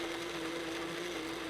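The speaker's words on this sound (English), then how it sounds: "we fill our blender about 3/4 of the way full and give it a whirl until the tomatoes are" A blender purees ripe tomatoes, filled about three-quarters full, giving a steady, loud, continuous motor whir with an even tone that runs unbroken throughout.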